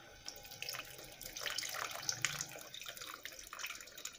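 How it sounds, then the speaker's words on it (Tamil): Tamarind water pours from a container into a pot of kara kuzhambu curry, a steady splashing trickle that swells briefly midway, close and fairly quiet with no talk. "எனக்கு தேவையான புளி அதை இதில் ஊற்றிடுறேன்."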